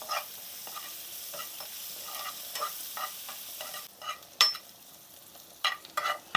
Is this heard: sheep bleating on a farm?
no